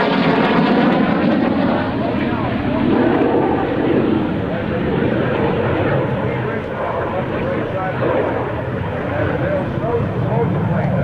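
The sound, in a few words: airplane flying at airshow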